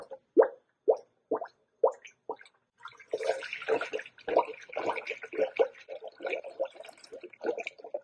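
Coolant poured into a radiator fill funnel on a 2013 Toyota Sienna with the 2GR-FE V6, a series of distinct close plops and gurgles, spaced at first, then a busier burbling stretch of bubbling liquid.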